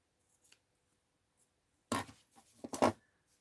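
Scissors snip through fabric for a rag doll cloche hat, a few faint clicks early on, then a denser burst of close cutting and rustling toward the end, heard alone without talk.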